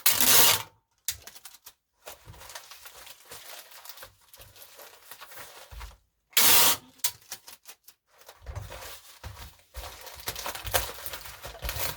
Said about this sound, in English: I'm just going to tape off these sides